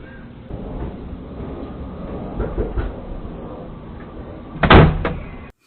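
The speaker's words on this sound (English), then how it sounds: "she's rapping on my door to let her in" Knocking on an apartment door plays back from a muffled, thin-sounding recording, with a few soft raps followed by a louder cluster of knocks near the end.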